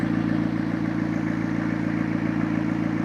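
A McLaren car engine runs steadily just after start-up, with a low, even idle and a faint mechanical clatter that stays close and loud throughout, with no voices.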